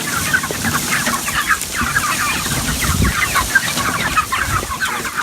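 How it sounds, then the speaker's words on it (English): Several chickens cluck and murmur close by on a pasture farm, a busy overlapping chatter of short clucks with no talking. "the chickens just walk to the next spot"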